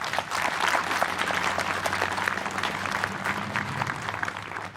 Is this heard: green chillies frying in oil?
no